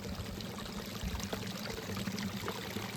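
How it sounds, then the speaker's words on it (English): Water from a mountain spring on an alpine hike in Austria's Karwendel range trickles and splashes in a faint, steady, continuous flow close by, with no voices. "Now that is a mountain spring. Look in there. See the water dripping out."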